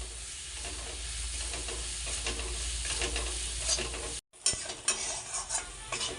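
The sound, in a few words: stirring and frying spice mixture for duck egg kalia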